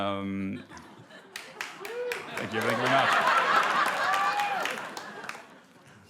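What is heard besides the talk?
audience applause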